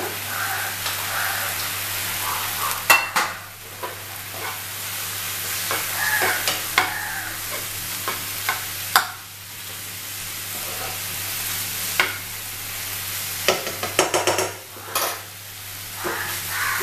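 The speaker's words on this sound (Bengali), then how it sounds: "মশলাগুলো সব আমি একসাথে যেটা দিয়েছি সেটা একটু জাস্ট ভাজা ভাজা মতো হতে থাক, মানে একটু মশলাটা কষিয়ে নিই" A masala of salt, turmeric and Kashmiri chili powder frying in a pan, a continuous hissing sizzle with sharp scraping and knocking from stirring, close and fairly loud, with no talking.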